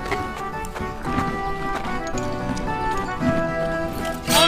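Horse hooves clip-clop at a steady pace with a brief whinny, set against a busy, music-like background.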